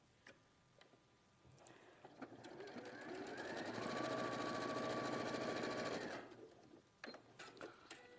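A domestic sewing machine stitching down a seam line in fabric, running steadily for about four seconds with a fast, even mechanical whir, ramping up and then stopping, with faint clicks before and after.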